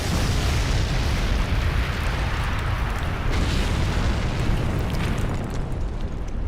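A massive explosion destroys the Alamo as an anime super move, a loud, sustained roaring blast with deep rumble that fills the whole stretch without letup.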